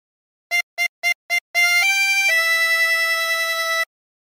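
Harmonica playing a phrase of a song: four short, evenly spaced staccato notes, then a run of sustained, held notes, clear and close with no talk.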